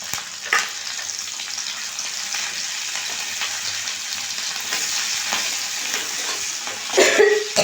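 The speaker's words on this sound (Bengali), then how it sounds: "কটা চিংড়ি মাছ ভেজে নিচ্ছি ভাজাই আছে তাও একটু ভেজে নিচ্ছি" Shrimp, already fried and refrigerated, being fried again in a pan, giving a steady bright sizzle throughout with a few louder crackles and stirring bursts near the end, and no voices.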